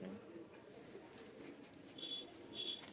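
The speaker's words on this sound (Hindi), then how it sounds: "ये सब रामपुरी कबूतर है।" Soft, low cooing of Rampuri pigeons at a distance, with a couple of brief higher chirps over quiet background noise.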